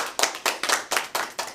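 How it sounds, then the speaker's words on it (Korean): A church congregation clapping in unison, about seven sharp, evenly spaced claps in quick rhythm, close and clear with no talk over them. "박수 한번 해주시죠"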